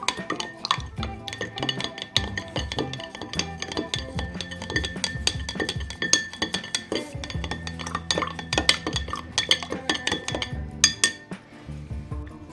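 A spoon stirs briskly in a glass, dissolving boric acid in 70-degree water, producing rapid, bright clinks and scraping taps that continue steadily, close up.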